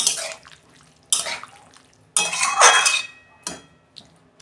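A pot is handled in several bursts, with metallic clanks and a splashing pour of liquid into it. Close and fairly loud, with short pauses between bursts.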